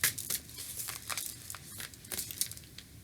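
A deck of Moonology oracle cards is shuffled by hand, giving a close, soft run of papery riffling and crinkling taps that fluctuate irregularly for a few seconds, quiet with no talk.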